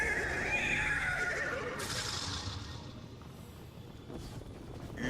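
A horse whinnies in a high, wavering call near the start, followed by softer game-like tones over a steady low rumble.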